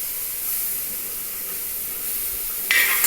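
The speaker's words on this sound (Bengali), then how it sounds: "আলুটাকে আমি কড়াইতে দিয়ে দিলাম" Steady soft hiss of potato frying in a hot wok, close and even, with a brief sharper burst of sizzling near the end.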